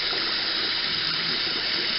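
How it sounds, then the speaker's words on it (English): Water squeezed out of makeup brushes during rinsing at a sink, a steady close hissing trickle of running water with no talking. "until the water that you're squeezing out runs clear"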